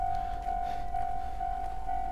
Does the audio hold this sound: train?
yes